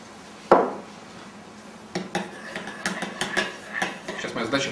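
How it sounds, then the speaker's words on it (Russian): A spoon stirs starch into heavy cream in a pot for malabi, giving an initial sharp clink followed by a run of irregular scraping and tapping against the pot, fairly close. "Сейчас моя задача полностью растворить крахмал в сливках."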